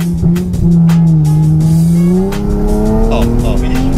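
A BMW launches hard from a standstill, its engine note rising steadily while tires squeal continuously under the acceleration, close and loud, with people talking over it.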